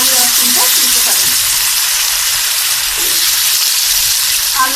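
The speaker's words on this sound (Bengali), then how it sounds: "আমি আলু আর সিমটা একসাথে ভেজে দেবো" Potatoes and flat beans fry in oil seasoned with salt and turmeric, a loud, close, continuous sizzle and crackle that holds steady throughout, with a faint stir or two underneath.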